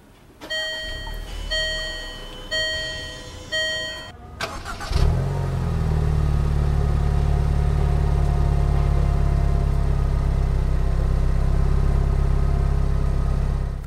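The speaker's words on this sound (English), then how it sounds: "Just put your foot on the brake, hit the button to start." A 2012 Range Rover Evoque Coupe Pure Plus Dynamic starts by push button: a chime sounds first, then the engine cranks, catches and settles into a steady, loud, even idle heard up close.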